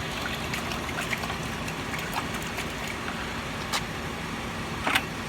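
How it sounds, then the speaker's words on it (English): Water runs steadily from a tap or hose while something is rinsed off, a continuous soft gushing wash with a few faint clinks and splashes, heard at close range and fairly quiet. "I just rinse this off."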